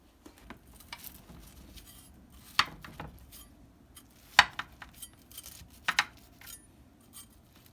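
Utensils scrape and clink against a dish while cutting into tater tot casserole, with a few sharp metallic taps standing out among soft scraping, close and fairly quiet, with no talking.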